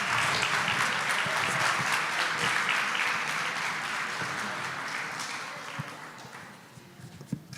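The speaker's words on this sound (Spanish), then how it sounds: "Pues un aplauso nuevamente para nuestro panel." An auditorium audience applauds a panel at the end of an academic talk, a dense sustained clatter of many hands that slowly fades toward the end, leaving a few scattered claps and thumps.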